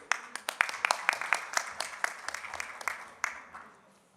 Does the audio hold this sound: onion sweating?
no